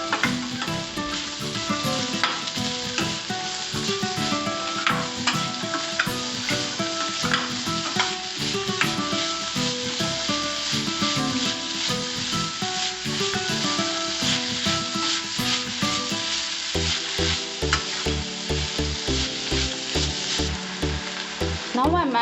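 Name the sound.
stirring and frying kalakai rice mixture in a pan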